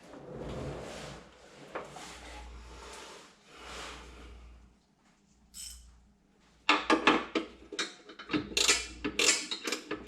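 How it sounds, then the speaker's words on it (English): A ratcheting wrench clicks in short rapid bursts while working on the fuel system of a 1997 Mercedes S500, faint at first and then louder, sharper and more frequent toward the end, with no talk. "I've got a ratcheting wrench."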